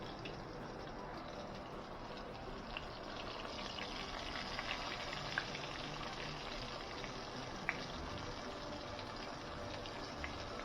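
Floured fish fillets fry in hot oil in a pot, giving a steady, broadband hiss that stays even from start to finish, with faint crackles and pops scattered through it and no voices.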